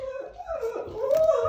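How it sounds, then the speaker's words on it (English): A pet dog in a home yelps and whimpers during a maths lesson. A rising, whiny cry runs through a short burst of excited barking, and the sound is close and fairly loud. "Sorry, my dog's going crazy."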